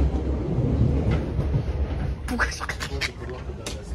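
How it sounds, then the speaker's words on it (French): A commuter train rumbles along the rails with a low steady roar and rhythmic clicks, while people talk nearby over the noise, aboard an RER B train. "Là on est dans le RER B."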